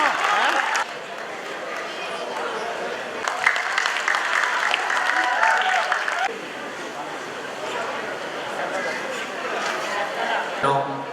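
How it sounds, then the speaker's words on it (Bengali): Audience clapping at a dance academy event in Mymensingh, steady and sustained across the whole stretch, swelling and dipping with crowd murmur and a voice over the PA. "জোরে করতালি প্রত্যাশা করছি আপনাদের কাছ থেকে।"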